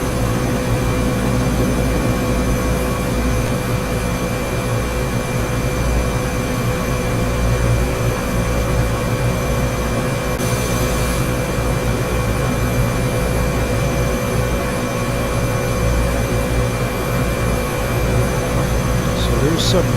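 A passenger airplane cruises over El Calafate, Argentina, its engines giving a loud, unbroken cabin drone with a low rumble and faint steady whine that holds throughout.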